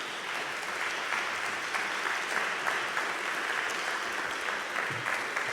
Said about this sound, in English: Please help me welcome Student Minister Abel Muhammad with a round of applause